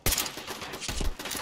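Rapid bursts of gunfire from a firefight in the video game Fallout 4, loud and close, with two dense volleys back to back in quick succession.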